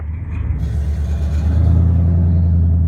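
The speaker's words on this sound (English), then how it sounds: "My truck's really loud." A loud truck engine idles at a drive-thru, a close, heavy low rumble with a steady throbbing pulse that swells slightly and holds on.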